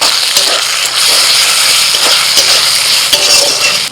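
Ginger garlic paste frying with onions in a hot pan, a loud, continuous close sizzle broken by regular scraping knocks of a spatula stirring.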